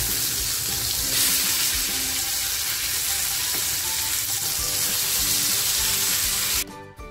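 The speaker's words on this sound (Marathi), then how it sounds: "एक बाजूने आपली मच्छी छान फ्राय झालेली आहे." Fish sizzles loudly in hot oil in a pan, a close, constant crackling fry for the Marathi-style fish fry, holding steady before dropping away sharply near the end.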